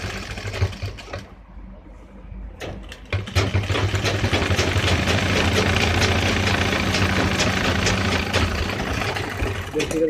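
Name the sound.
sewing machine stitching a trouser pocket opening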